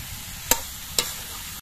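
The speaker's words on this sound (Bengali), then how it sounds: "নুন দিয়ে নেড়ে চেড়ে মিশিয়ে দিতে হবে।" Green jackfruit being stirred with salt in a pan for a jackfruit and paneer curry, with two sharp scraping clacks of a spatula against the pan over a faint, steady background hiss, no voices.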